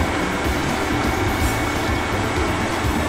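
Steady, loud rumble of a limited express train running between Hakodate and Sapporo, heard from inside, a continuous roar of wheels and engine with no pauses.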